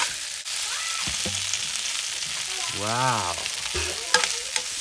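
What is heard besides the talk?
stir-frying mixed vegetables in a pan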